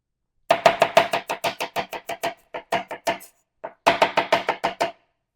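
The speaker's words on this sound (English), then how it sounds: "So there you go, French slicing onion" A knife French-slicing an onion on a cutting board, a fast run of crisp close chops that slows near the end, pauses briefly, then resumes in a second quick burst.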